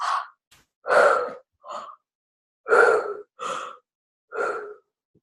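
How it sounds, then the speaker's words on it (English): Three deep, forceful breaths drawn in and pushed out during a guided relaxation exercise, each a loud, breathy whoosh with short gaps between, close and clear with no talking. "do your 3 deep, forceful breaths"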